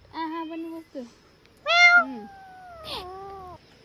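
A kitten meows several times in high, drawn-out cries, close by, with short pauses between calls.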